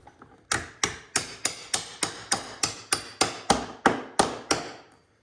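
A hammer strikes steadily while customizing a Ridgid toolbox, about thirteen loud, sharp metallic blows at an even, brisk rhythm, each ringing briefly before the next, with no voices.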